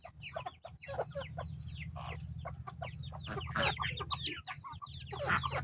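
A hen clucks repeatedly to call her chicks, sharp rapid clucks over a steady low hum, with other chickens crowding and clucking nearby at close range.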